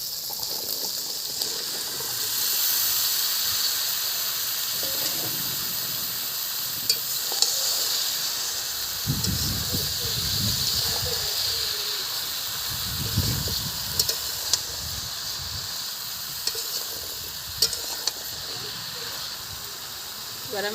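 Pumpkin and potato pieces drop into frying spices in oil, giving a steady hiss with heavier bursts of sizzling and stirring as the vegetables go in.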